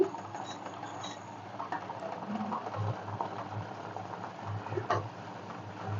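Water bubbles and pops in a pot, a soft irregular simmer with occasional louder bursts, as finger millet mixture is added for ragi porridge.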